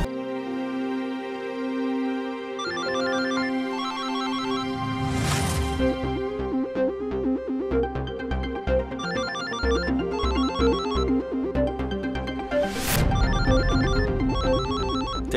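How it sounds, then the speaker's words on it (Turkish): A phone rings with a repeating electronic melody, loud and continuous, the tune looping over and over. "Sana söylüyorum, telefonun çalıyor."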